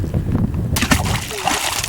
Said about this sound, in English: You can hear that ploop. Sounds like that water might be down there a little ways.